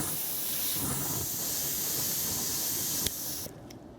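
Airbrush spraying grey weathering paint onto model railway wagon wheels gives a steady, close hiss that runs almost unbroken, then drops in level and cuts out just before the end.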